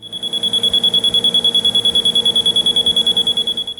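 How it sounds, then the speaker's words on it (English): A loud, high-pitched alarm buzzer on an industrial dust-collector control system pulses rapidly and continuously, a steady stream of short even beeps close by with no other sound. "both an audible buzzer"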